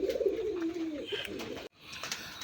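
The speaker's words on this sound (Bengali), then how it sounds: "এখানে দুইটা কবুতর আছে, দুইটাই মাদি কবুতর" Two female native Bengali pigeons coo close by, a throaty rolling call that fades out in a brief gap, then quieter cooing resumes.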